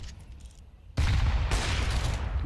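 Gunfire in a Counter-Strike match bursts in loudly after a quieter stretch and continues as a dense, sustained volley of shots.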